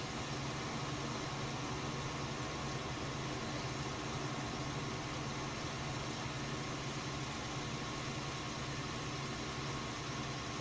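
Tractor engine from Farming Simulator 19 idling steadily with a dense, unchanging mechanical drone and hiss, no voices, continuous throughout.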